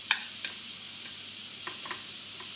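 A 15-gram portion of iASC Irish Shellfish Butter sizzling in a pan with vegetables: a bright, steady hiss of melting butter, broken by a few soft clicks of a utensil against the pan.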